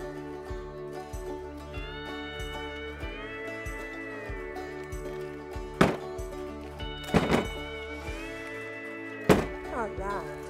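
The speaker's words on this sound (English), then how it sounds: "Okay, bang it up and down on the table." A mold of freshly poured homemade soap, sprinkled with oatmeal, is banged up and down on a table on a homestead farm, giving a few dull thumps in a home kitchen while people talk.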